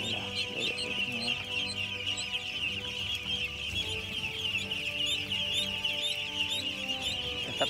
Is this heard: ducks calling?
yes